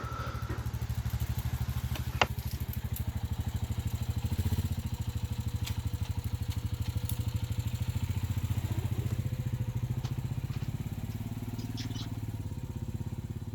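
A steady, moderately quiet small-engine putter from an ATV fitted with a bucket loader runs continuously as it begins moving forward, with occasional light clanks and knocks from the machine.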